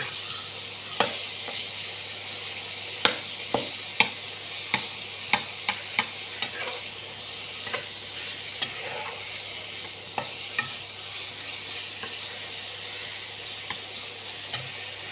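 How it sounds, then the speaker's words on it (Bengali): A fish curry with sour mango sizzles softly in a pan while a spatula scrapes and taps against it in irregular strokes, the clicks standing out sharply over the low steady frying hiss. "আম দিয়ে হালকা একটু নাড়াচাড়া করে নিচ্ছি।"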